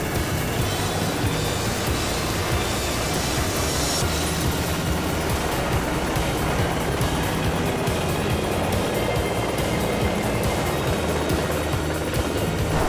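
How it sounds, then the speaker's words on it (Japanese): A military helicopter takes off from a park beside Yokosuka harbor at a naval summer festival, a loud, continuous rotor and engine roar that holds steady throughout with no talk. "15時45分頃大きな音を轟かせて今ヘリコプターが離陸"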